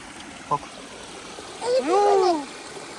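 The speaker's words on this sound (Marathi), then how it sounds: "इथून पाणी वाहते" Steady trickling water runs throughout, with a short click early on and a harmonic chirp or voice-like sound rising and falling over it midway.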